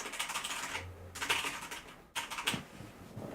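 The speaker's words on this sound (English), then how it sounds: "There you go, that's my old keyboard." Old computer keyboard typed on at a distance, a quick irregular clatter of key strikes in bursts with brief pauses, faint and roomy rather than close.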